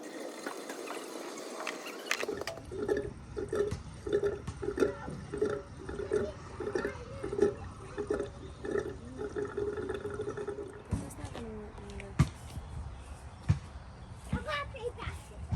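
Diesel fuel gurgles and sloshes as it is poured into the tank of a 1976 Mercedes-Benz 300D, a steady rhythmic glugging for several seconds, then clunks and handling noises, with someone talking over it.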